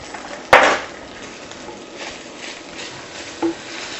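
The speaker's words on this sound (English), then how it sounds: "Stir those in, let them cook for about a minute" A spoon stirring ground cumin and paprika into a curry in a hot pan: one sharp clatter against the pan, then soft scraping and a low sizzle, with a small knock near the end.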